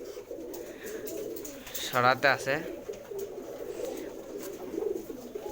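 Domestic pigeons cooing close by in a loft, one clear rolling coo burst near the middle over a low murmur of other birds, with someone talking briefly.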